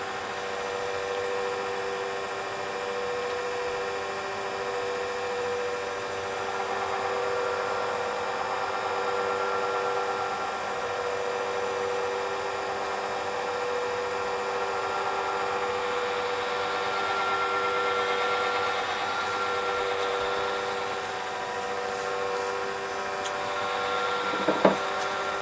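Turned pen spinning on a lathe while being sanded through abrasive grits during a CA finish, giving a steady whirring hum with faint friction rasp throughout and a brief louder knock near the end.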